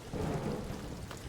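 An explosion in the horror video game Amnesia: The Bunker, heard as a sustained low rumbling roar with a crackling, rain-like wash, fairly quiet and steady, with no talking.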